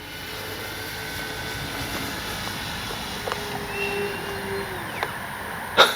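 A radio-controlled P-51D Mustang warbird model plane flying overhead at a flightline, with a steady, fairly distant engine drone holding across the whole stretch and a couple of brief louder swells near the end.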